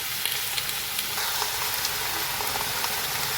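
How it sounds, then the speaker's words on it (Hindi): Chicken pieces fry in a pan for a curry, a steady, close sizzle and crackle with occasional soft stirring sounds, continuous and without speech. "आप देख सकते हैं चिकन हमारा भुन रहा है।"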